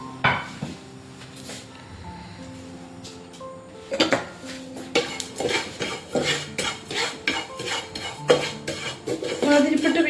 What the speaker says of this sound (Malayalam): ഷാ ജീരകവും ചെറിയ ജീരകവും ഓക്കെ അതാദ്യം നമുക്ക് വറുത്തെടുക്കാം